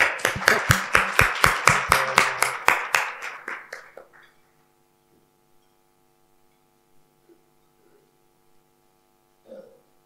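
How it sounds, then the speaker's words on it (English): Applause at a Global Women Leadership Conference award ceremony, a steady run of loud, evenly spaced claps over about four seconds that thins and stops, leaving faint hum and a lone distant tap. "Round of applause."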